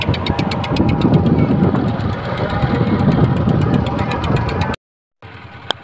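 A tourist boat's engine runs loud and close in a steady, knocking idle with a rattling vibration. It cuts out abruptly near the end, followed by a short silence and then a quieter return.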